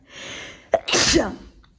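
A single close, sharp sneeze from a person during a cleaning session in a child's bedroom, preceded by a short inhaling breath, then quiet.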